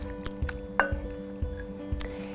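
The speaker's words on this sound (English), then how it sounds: "A can of diced tomatoes" A can of diced tomatoes is poured into a slow cooker with brown sugar, giving soft wet plops and squishy splats at irregular intervals, plus a couple of faint clinks, close and fairly quiet.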